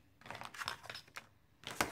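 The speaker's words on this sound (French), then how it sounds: "Vous voyez, je coupe que sur un côté." Scissors snip through paper while a handbag-style scrapbook photo album is cut from a kit, a few short crisp cuts spaced apart and close by, with a final sharper snip at the end.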